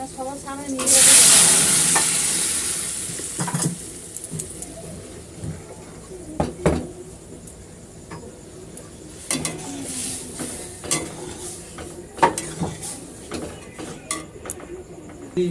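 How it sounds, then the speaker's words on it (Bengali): Onion, chilli and garlic tempering for dal hit hot oil with a loud sudden sizzle burst, which then settles into a softer crackle broken by metal ladle clinks against the pot and a distant bird. "এখানে এই যে ডালের পেঁয়াজ লঙ্কা রসুন সব কিছু দিয়ে দিয়েছি দিয়ে এবার ডালটা সাঁতাল দিয়ে দেবো"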